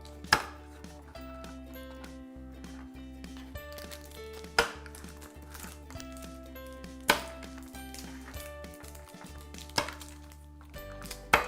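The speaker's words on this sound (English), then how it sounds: "I'll chop them up. Just a random chop" A knife chops through Hershey chocolate bars on a board for peppermint candy bark, giving sharp, evenly spaced knocks about every second and a half with faint clinks between them. The chopping is close and clear and no one talks.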